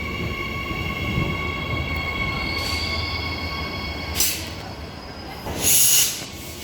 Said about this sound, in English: EMU's 103, I believe, and 62, leaving platform 2 for a Clarkson service.